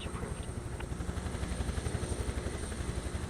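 A Huey helicopter in Microsoft Flight Simulator 2024, its rotor thumping in a fast steady pulse over a low engine rumble and airy rush, continuous and fairly close.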